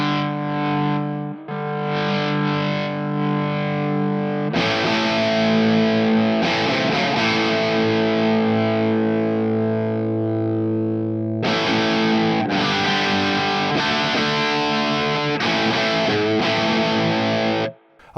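A Marshall JCM900 guitar amp with the gain turned up rings out thick, distorted guitar chords, loud and sustained, with a few short breaks where the strings are restruck and left to ring.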